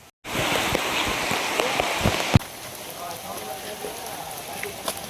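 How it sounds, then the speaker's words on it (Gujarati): Rain begins falling at Jatashankar Mahadev near Junagadh, a sudden close hiss of drops on surfaces with scattered taps and a loud knock midway, after which the downpour continues more softly. "હવે મિત્રો અહીંયા વરસાદ ચાલુ થઈ ગયો છે"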